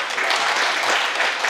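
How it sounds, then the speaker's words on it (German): Dense, lively audience applause on a village fair stage at Kirchheimer Dorffest, welcoming a girl named Luisa: a continuous wash of many hands clapping, fairly close and loud. "bitte einen Applaus für Luisa."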